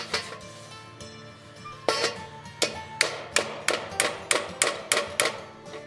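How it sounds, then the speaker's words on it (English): A hammer taps a bolt out of a bronze gladiator helmet hinge: about a dozen sharp metallic strikes that start sparse and settle into a quick, even rhythm, close and crisp. "Now what I want to do is tap it out of the way."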